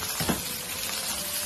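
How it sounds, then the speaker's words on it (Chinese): Diced red pepper and chopped chili are stir-fried in a wok, giving a brief soft sizzle with a scrape of stirring near the start, close and fairly quiet. "继续给它翻炒"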